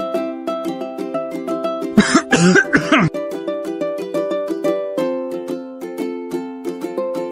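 A single person gives a brief burst of two or three coughs over gentle background music with a steady plucked melody.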